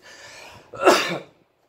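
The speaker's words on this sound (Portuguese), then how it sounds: "Eu falei em respirar e espirrei" A single person sneezes: a short breathy intake, then one sharp explosive burst that trails off quickly, close to the microphone.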